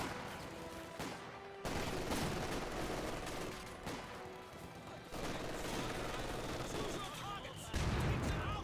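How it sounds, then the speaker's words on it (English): In Company of Heroes 2, mortar rounds hit an MG42 position amid a dense battle din. There are repeated sharp blasts and steady gunfire throughout, with a voice talking over it. "Mortar hitting the MG42."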